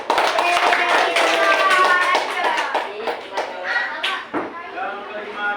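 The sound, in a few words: class clapping hands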